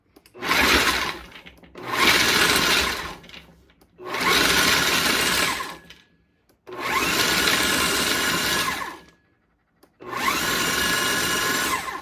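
A food processor chops nuts and dates in five loud pulses, each a gritty whirring burst lasting a second or two, with short silences between them.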